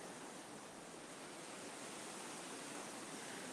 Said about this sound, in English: Oh, the ocean, the sea,